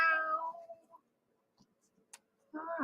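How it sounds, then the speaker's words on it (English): A cat meowing twice, with a long drawn-out meow and then a second rising one after a pause. Both are close and clear, with faint ticks and clicks between them. "Meow, he says."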